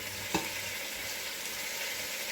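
Onions and the rest of a pickle sizzle in a hot pan with a little salt, giving a steady, bright hiss throughout with a brief clatter of stirring near the start.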